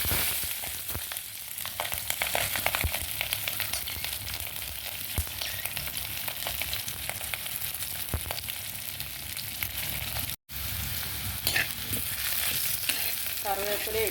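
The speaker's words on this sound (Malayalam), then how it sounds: "ഇനി നമുക്കിതിലേക്ക് ഇതെല്ലാം കൂടെ സവോള, ഇഞ്ചി, പച്ചമുളക്, വെളുത്തുള്ളി ഇതെല്ലാം കൂടെ ഇടാം കേട്ടോ" Onion, ginger, green chili and garlic fry in oil in a pan over a stove fire, a constant sizzle with scattered stirring scrapes, broken by one brief dropout.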